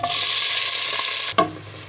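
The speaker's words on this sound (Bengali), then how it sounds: "তেলটা গরম হয়ে গেলে এবার দিয়ে দিব এক কাপ পরিমাণ পেঁয়াজ কুচি" Chopped onion hits hot soybean oil with a steady, loud sizzle, broken near the end by a sharp burst of crackling and stirring. Nobody speaks.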